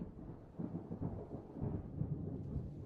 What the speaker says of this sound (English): There's rain and thunder again.